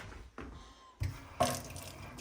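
Hot water runs from a kitchen tap into a stainless steel sink in bursts, starting and stopping a few times with a steady splashing hiss, close by and fairly loud.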